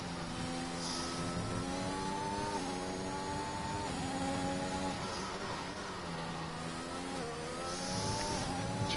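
An Aston Martin race car engine in the SRM Racing sim drones steadily at high revs through the Russian Grand Prix, its pitch rising and dipping with gear changes, close and unbroken.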